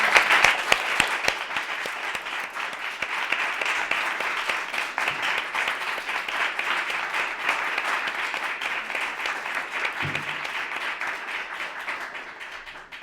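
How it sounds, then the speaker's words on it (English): Sustained applause from a crowd for a panel discussion, steady dense clapping that lasts throughout and slowly tapers off near the end. "let's give our panel a round of applause"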